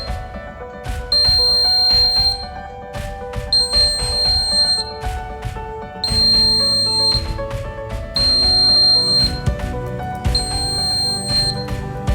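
A shrill, high-pitched fire alarm buzzer beeps in repeated bursts of about a second or more, loud and close, over a background hum.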